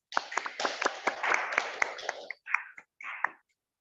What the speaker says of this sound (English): please join me once again in round of applause for the remarkable Professor Dr. Abdul Halim Mokhtar and Professor Sushima